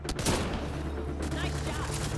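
Bursts of rapid gunfire in the sci-fi shooter Mass Effect Andromeda, loud and close, with sharp cracks at the start and overlapping volleys over a low rumbling backdrop, with voices mixed in.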